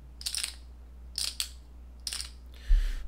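Poker chips are shuffled and clacked together by hand at a desk during live blitz chess, several short bursts of bright clicking rattles separated by pauses, close and crisp, ending in a low thump.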